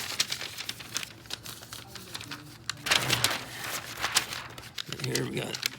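A spare sheet of paper is crumpled by hand in a series of close, crinkly rustling bursts, with a voice talking over part of it.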